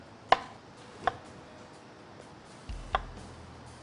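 Three sharp knife chops strike a cutting board at uneven intervals as tofu is cut, crisp and close, over a quiet background.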